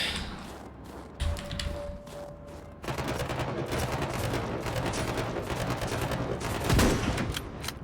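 Rapid automatic gunfire in the Hunt Down the Freeman video game, loud and close. A few scattered shots come first, then a steady stream of fire with a heavier blast near the end.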